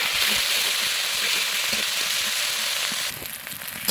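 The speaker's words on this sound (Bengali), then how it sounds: "এটা দিয়ে দেবো দিয়ে একটু ভালো মতন ভেজে নেব" A spice paste of ground dried chili, coriander and cumin fries in a pan for a lamb curry, giving a dense, steady hiss of sizzling that eases slightly near the end.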